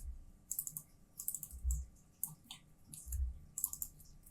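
A computer mouse clicks in quick pairs during 3D editing work, sharp close double clicks repeating at irregular intervals with soft handling thumps between them and no speech.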